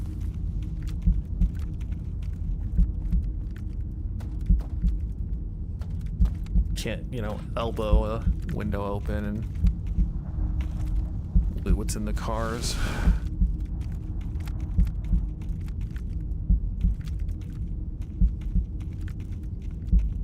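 A steady, low, rhythmic heartbeat thump pulses through a VR session of Into the Radius 2, repeating evenly beneath a man's speech for the whole stretch.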